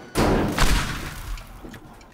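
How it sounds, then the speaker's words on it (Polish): Dynamite charges go off in the destruction game Teardown, a sharp loud blast followed by a second rumbling burst and a long fading debris tail, with no talking. "Dynamity wybuchły."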